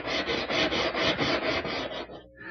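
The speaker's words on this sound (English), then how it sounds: "I'm using this portable oscillating spindle sander" A portable oscillating spindle sander trues up a wooden edge, giving a close, steady rasping with a rapid pulsing rhythm that cuts out briefly near the end and then resumes.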